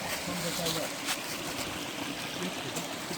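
Stream water flowing on below the pool at the foot of a waterfall near a cave entrance, a steady close rushing trickle heard on its own.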